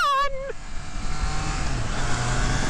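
A 2024 Triumph Trident 660 motorcycle engine runs close up, a steady, loud mechanical drone with rising and falling throttle, after a brief voice at the start.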